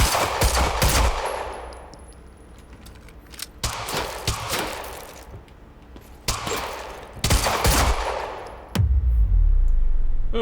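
Gunfire in Quantum Break comes in three loud bursts of rapid automatic shots, with quieter pauses between them and a heavy low boom near the end.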